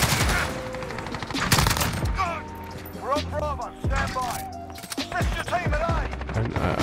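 Rapid gunfire bursts and single shots crack through a match of Call of Duty: Modern Warfare, some close and sharp, others scattered farther off, while a player talks over the shooting.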